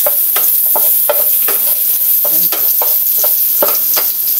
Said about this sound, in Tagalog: Inuna kong i-fry yung ating konting pork na pansahog.